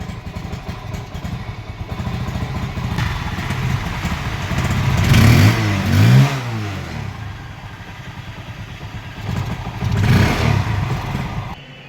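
A Mahindra motorcycle with an altered CDI unit runs close by, its engine idling with a steady putter and then revving up twice, loud and alone with no voices.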